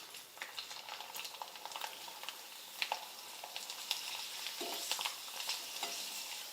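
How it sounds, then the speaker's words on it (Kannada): Rice papads (akki happala) fry one at a time in hot oil. A steady, dense sizzle and bubbling runs throughout, with light crackles and occasional soft stirring or scraping sounds. "ನೀವು ಒಂದೊಂದೇ ಬಿಟ್ಟು ಫ್ರೈ ಮಾಡ್ಬೇಕಾಗ್ತೈತ್ರಿ."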